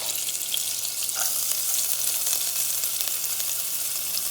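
Onions frying in a pan for Cuban sofrito, a steady close sizzle with a soft crackling hiss that runs evenly throughout with no talking.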